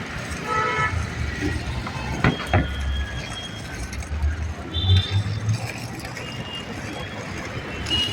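Busy traffic passes on a wide main road in Vashi, with a continuous rumble of engines, a few horn toots and passing vehicles nearby.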